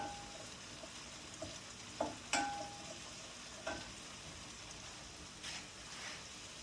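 Garlic cooks quietly in a pan for risotto, a faint sizzle with soft stirring and a few scrapes and clicks of a utensil, no voices.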